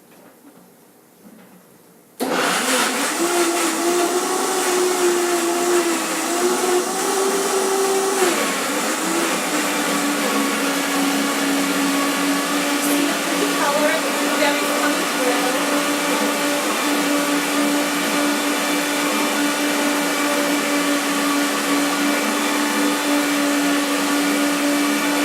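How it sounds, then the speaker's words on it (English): A Vitamix blender processing blueberry pie filling roars on after a brief quiet start, its motor holding a loud, steady whine that settles slightly lower partway through. "processing in the Vitamix"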